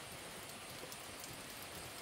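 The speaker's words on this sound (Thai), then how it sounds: "ฝนตกเนาะฝนมันตก" Steady rain falls on a rice farm during an all-night storm, a dense, even hiss of drops that continues without pause, with no voices.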